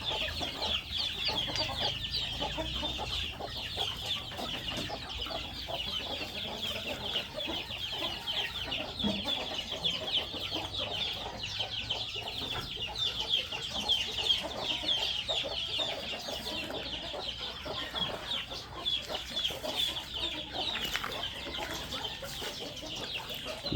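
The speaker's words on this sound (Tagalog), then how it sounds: "Ang daming manok ni Pogi" Many chickens cluck steadily in a dense, continuous chorus of overlapping calls, moderately faint and sustained throughout.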